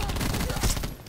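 Rapid automatic gunfire in the Black Ops 4 video game, a dense burst of shots close and loud for about a second, then cutting off.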